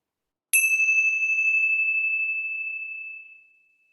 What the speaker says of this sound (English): maybe I'll just ring some bells.